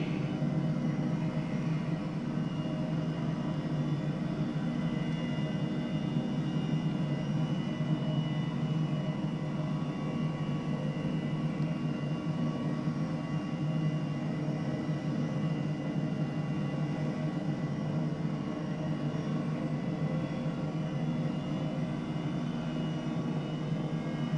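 A steady, even engine and rotor drone from an H125 helicopter in Microsoft Flight Simulator, flying inbound over Melbourne toward the Yarra helipad, constant and unchanging throughout, with no talking.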